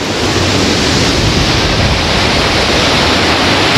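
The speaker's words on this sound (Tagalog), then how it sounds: "Sobrang lakas ng hampas ng tubig. Sobrang taas ng falls." Balagbag Falls, a tall waterfall, pours down in a loud, steady, broadband roar of crashing water heard up close, with no break or variation.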